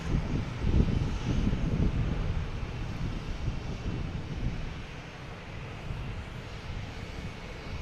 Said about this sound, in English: We got this JetBlue heading to Pittsburgh.